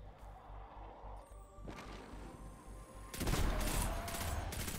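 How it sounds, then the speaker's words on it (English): Weapons firing in the video game Destiny 2, quiet scattered shots at first, then a loud, dense burst of rapid gunfire and impacts near the end. "That is some firepower right there."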